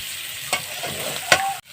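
Potatoes in chicken curry sizzle in a pan as they are stirred and sautéed, a continuous close frying hiss with two sharp spatula scrapes before it cuts off abruptly.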